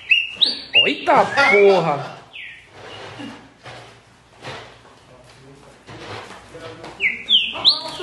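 A green-winged saltator's bright whistled phrases ring out at the start and again near the end, with people talking in between.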